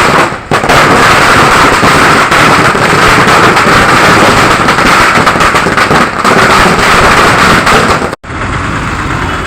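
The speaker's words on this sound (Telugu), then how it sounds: "బాణాసంచా కాల్చారు" Fans at a film release celebration set off a long string of firecrackers, a dense, loud crackling that runs almost without a break before a sudden brief gap near the end, then resumes.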